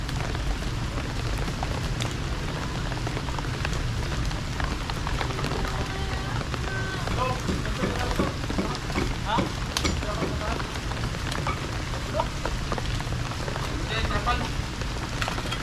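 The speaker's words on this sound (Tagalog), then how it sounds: "Wala man ano, dampog, biglang umulan." Sudden rain pours down steadily outdoors at a work site, a dense continuous hiss of drops close by that lasts throughout, with voices faintly mixed in.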